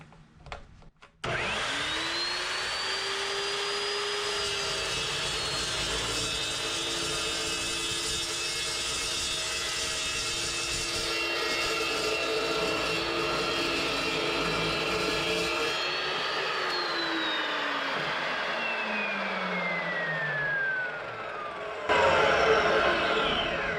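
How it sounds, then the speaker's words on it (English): Evolution multipurpose cut-off saw spins up with a rising whine, then grinds steadily through thick metal for about fifteen seconds before winding down in a long falling tone. "this is the very first cut with the Evolution cut-off saw"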